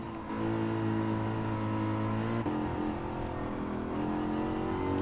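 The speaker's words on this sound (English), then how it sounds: "he actually hit the grass on the right-hand side of the track while braking, which made him spin out, unfortunately eating the entire barrier" A race car in Gran Turismo 7 holds a loud, steady engine drone with sustained tonal harmonics, and a brief pitch shift partway through as the car spins out.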